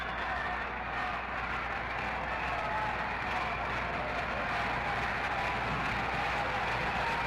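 A crowd of over 10,000 at a 1972 Yankees versus Angels baseball game cheering, a steady distant roar of applause and crowd noise heard through a radio broadcast, with no commentary voice.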